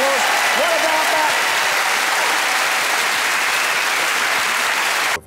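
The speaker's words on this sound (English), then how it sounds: "Give them a round of applause." A television game-show studio audience breaks into loud, sustained applause, a dense wash of clapping that fills the room for several seconds before cutting off abruptly at the end.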